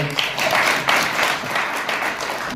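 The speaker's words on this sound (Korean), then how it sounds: "박수로 맞이해 주십시오." Steady audience applause at an award ceremony, many hands clapping together for the full length and fading slightly at the end as a speaker is welcomed.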